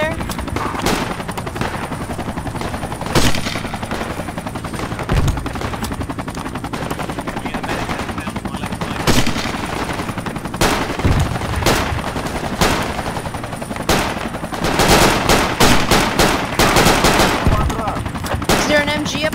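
Machine gun fire in the military shooter Project Reality, repeated loud bursts and scattered shots across a dense battlefield backdrop, growing heavier and more rapid toward the end.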